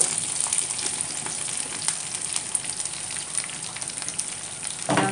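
Chopped eggplant fries in hot oil with a steady, close crackling sizzle that runs throughout, ending with a brief stirring clatter.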